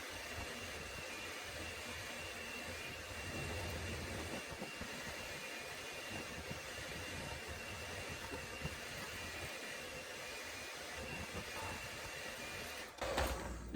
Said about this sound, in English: So now we're just gonna beat the butter and the sugar, and we're gonna get like a nice creamy mix.